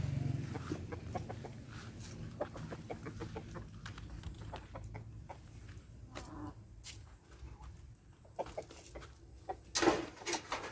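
A flock of chickens returning home in rural Vietnam clucks softly at a distance, with scattered short calls and a brief louder squawk near the end.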